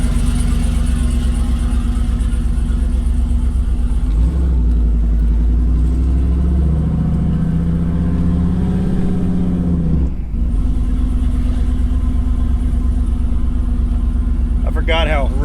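A truck with a fully uncorked exhaust rumbles along in a loud, steady engine drone that swells briefly as it revs, with people talking over it throughout.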